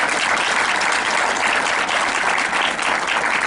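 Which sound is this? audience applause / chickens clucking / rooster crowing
audience applause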